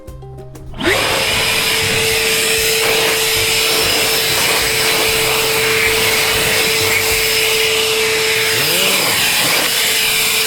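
A powerful leaf blower clears snow, a loud, steady motorized roar that starts abruptly and runs continuously, a sustained blower whine with a constant hum, unbroken throughout.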